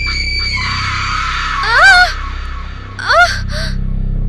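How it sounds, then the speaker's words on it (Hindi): A woman lets out two sharp, rising screams, the second shorter, over a low rumbling background with music-like tones. "तभी वो चीख उठी।"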